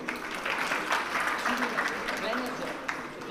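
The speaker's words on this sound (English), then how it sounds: "Ladies and gentlemen, a big round of applause." Applause from an audience at the Pakistan Minerals Summit, an investment event, a dense steady patter of clapping that runs through the whole moment without letup, with talk mixed in underneath.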